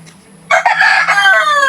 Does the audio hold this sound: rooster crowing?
yes